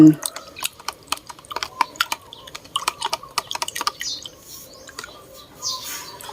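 A homemade shallot-based pest spray is stirred in a container, making a rapid series of close, sharp clinks and taps as a utensil knocks against the sides. The rhythm is irregular, then it fades into softer swishing, with a brief bit of speech at the start.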